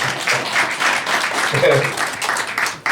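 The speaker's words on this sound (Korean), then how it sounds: "박수 한번 쳐주십니다." An audience at a local election candidacy press conference in Seongnam claps steadily, the close, dense applause running throughout with voices mixed in.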